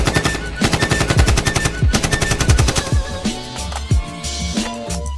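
AK rifle gunfire sound effect, with rapid automatic bursts repeating in a steady rhythm, loud and close, layered over tonal musical sounds.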